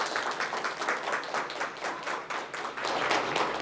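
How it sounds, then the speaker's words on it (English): An audience claps steadily for a speaker being introduced on stage, a dense, moderately loud round of applause with no voices over it. "Let's give a round of applause for Dr. Jade Norris."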